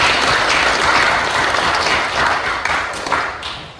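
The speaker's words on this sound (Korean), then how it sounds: "한번 박수 좀 부탁드립니다." A gathered audience at a literary lecture event claps together, a loud, close burst of applause that holds steady and then starts to trail off toward the end.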